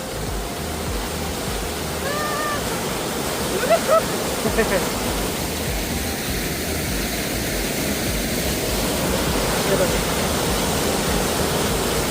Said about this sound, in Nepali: यो चाहिँ कुन खोला रे मैले भने बेलम्ची खोलाको पानी हो